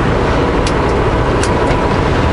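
A car drives along a snowy road in the Okanagan on a sunny day, giving a loud, steady engine and tyre roar from inside the vehicle with a couple of faint high clicks.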